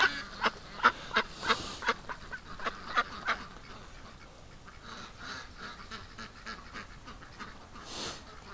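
Ducks and geese call in a flock of over a thousand birds, a run of rhythmic honks and quacks at first, then scattered quieter calls at moderate distance, no one speaking.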